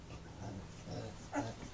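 Several dogs indoors reacting to a car door, a low, faint grumbling bark and whimper, muffled and distant, under a steady room hum.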